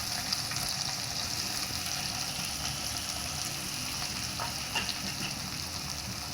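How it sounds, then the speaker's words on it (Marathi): Bay leaf and finely chopped onion frying in a kadhai for homestyle egg rice, giving a steady, even sizzle that holds at a moderate level throughout, with no talk over it. "आता आपण टाकूयात तेजपत्ता आणि आता बारीक चिरलेला कांदा"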